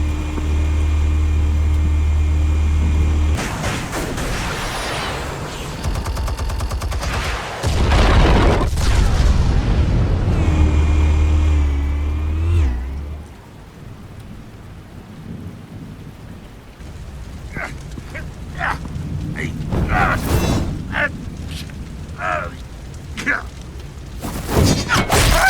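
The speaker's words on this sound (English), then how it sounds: "Explosives armed. Fire when ready." Explosives detonate in Batman: The Telltale Series with loud, sustained, rumbling booms and roaring blasts that fade into a lower crackling rumble, followed by scattered sharp hits.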